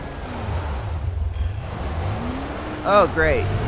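Continuous engine rumble of a car being driven in The Following video game, close and steady, with people talking over it near the end.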